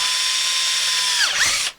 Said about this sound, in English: So you find the middle of your pipe, and then you drill through the top